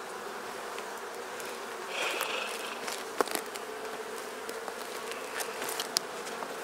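Honey bees swarm around an opened hive, an aggressive colony packed with honey, during an inspection. Their dense, steady buzz holds throughout, with a few sharper clicks and a brief swell partway through.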